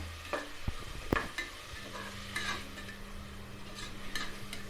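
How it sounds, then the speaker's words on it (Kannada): Tomatoes and salt fry in oil while being stirred in a pan. There is a soft, steady sizzle with scattered scrapes and clinks of the spoon against the pan, quiet and close, and no talking. "ಟೊಮೊಟೊ ಮತ್ತು ಉಪ್ಪು ಕಳ್ಳಿ ಚೆನ್ನಾಗಿ ಫ್ರೈ ಮಾಡ್ಕೊಳ್ಳೋಣ"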